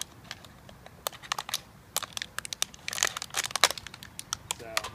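A Blue Wasp utility skinner knife slices through material in a run of sharp crinkling, crunching strokes, close and fairly loud, with a denser burst of cutting near the end.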